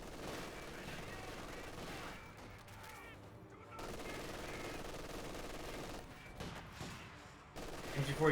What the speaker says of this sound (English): MG42 will have trouble suppressing the squad thanks to the heavy cover, but they're receiving a lot of damage and actually do get suppressed right now